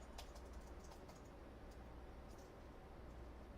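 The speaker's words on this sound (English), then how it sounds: "I think you can hear typing." Computer keyboard typing at a helpdesk computer during a login attempt, quiet scattered key clicks over a steady low background hum.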